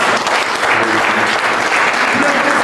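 A church congregation claps together during worship, a loud, dense and continuous wash of applause filling the room, with voices mixed in beneath it.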